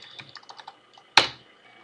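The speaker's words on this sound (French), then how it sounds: "taper Entrée." Typing on a computer keyboard: a run of light, quick key clicks followed by one sharper, louder press of the Enter key, close and alone without talk.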